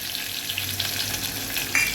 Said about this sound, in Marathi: तेल तापलेलं आहे जिरा टाकून दिलेली आहे